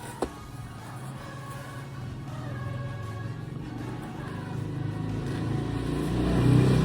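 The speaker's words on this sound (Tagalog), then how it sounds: "Iingay ng mga motor dito guys." Motorcycles pass outside, a low engine rumble that swells toward the end as one draws nearer, heard indoors and fairly faint, after a brief knock at the start.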